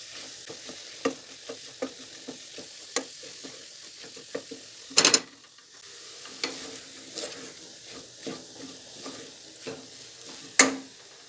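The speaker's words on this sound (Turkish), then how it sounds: "Unumuzla birlikte tekrardan şöyle salçamızın da unumuzun da kokusu çıkana kadar kavurmaya devam edelim" Flour and tomato paste being roasted in a pan give a soft steady sizzle, with a spoon scraping and tapping the pan at an irregular rhythm, close and fairly quiet.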